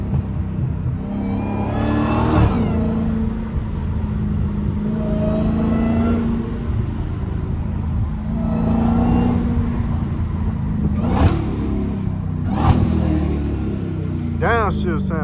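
A Dodge Hellcat idles with a deep, steady rumble while stopped at a traffic light, with a few short revs swelling over the low drone and some talking in the car.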